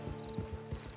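Hooves clip-clop at an even walking pace from a horse in Red Dead Redemption II, quiet and steady against a low hum.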